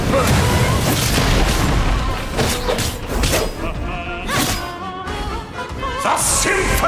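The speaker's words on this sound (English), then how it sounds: "The symphony of cannon fire!" Cannon fire in Genshin Impact booms over and over in a dense, loud barrage, with crashing bursts stacking over a continuous rumbling bed across the whole stretch.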